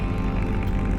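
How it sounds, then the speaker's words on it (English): Loud, steady propeller roar from a P-51 Mustang with a rushing, whistling edge, sustained throughout as the plane passes close by at high speed. "The fantastic whistling sound you can hear as the P-51 Mustang flies at high speed"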